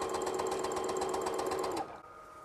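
A sewing machine stitching fabric for a camouflage wildlife photography bag hums in a steady, rapid rhythm, loud and close, then stops abruptly near the end, leaving a faint background.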